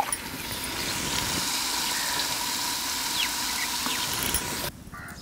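Hot water gushes steadily into a pot of mutton on a wood-fired stove, a loud continuous pour that cuts off near the end.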